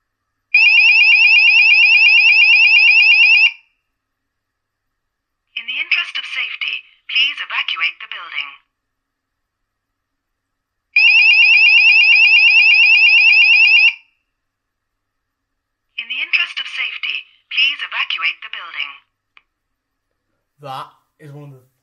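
A Fire Cryer Plus voice sounder fire alarm with beacon blares a loud, steady alarm tone, then plays a recorded spoken voice message. The tone and the message repeat in a second cycle, with a short burst of sound at the end.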